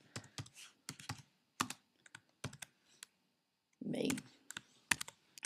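Close computer keyboard typing while text is entered in Inkscape, with irregular clusters of crisp key clicks around a short spoken word.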